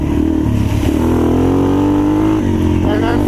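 A modded, regeared and rejetted 2016 Yamaha TTR230 dirt bike engine pulls hard in second gear, a loud, close, continuous rising drone that holds steady before shifting pitch.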